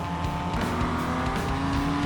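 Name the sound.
race cars in turn 9 at Tsukuba Circuit, BMW bumping another car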